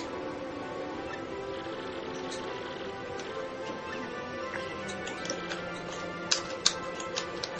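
Dialogue text in Paper Mario: The Thousand-Year Door typing out with soft, rapid ticking clicks under steady background music, with a few sharper ticks near the end.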